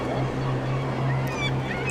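Ducks on the Porto waterfront give a few short, fairly faint honks over a constant rush of wind and water noise.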